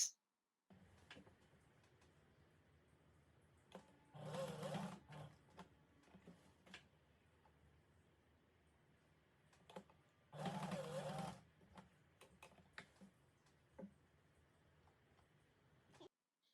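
A sewing machine stitches a bustier blouse in two loud whirring bursts of about a second each, separated by quiet, faint mechanical ticks and handling sounds.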